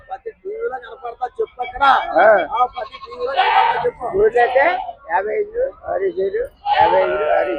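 Goats and sheep bleat repeatedly at a livestock market in Gudur, the wavering calls coming in bursts that mix with people talking nearby.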